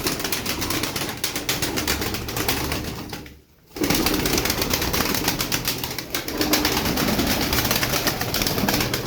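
Many tumbler pigeons cooing and fluttering close by, a dense, continuous murmur of calls and wing flaps, with a brief lull partway through.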